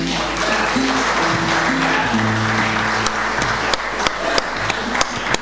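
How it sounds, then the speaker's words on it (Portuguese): Crowd applause for a singer at a live cantoria poetry-singing event, steady dense clapping throughout with a low musical drone underneath and a few sharper claps toward the end. "Com um grande aplauso"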